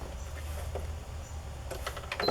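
A sewing machine stitches down the center of a paper wallpaper strip with a quick mechanical whirring run, close and moderately loud, and a few sharper clicks near the end.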